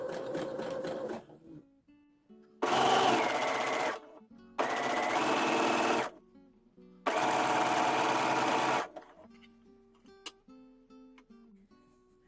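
A domestic sewing machine stitches a narrow zigzag onto fold-over elastic in three loud, close bursts of rapid mechanical whirring, separated by short pauses with small clicks and handling sounds.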